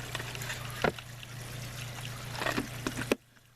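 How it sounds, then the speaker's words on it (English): Water trickles steadily down a line through a series of filters in a backyard DIY aquaponics biofilter setup, a soft continuous dribble with a few louder splashy spurts near the end before it cuts off. "Water comes right out of this, down this line, through this series of filters here."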